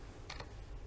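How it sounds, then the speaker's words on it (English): A few soft keystrokes on a computer keyboard during CAD modelling, a quick pair of taps and then one more key press, faint and close over a quiet room hiss. "and press enter"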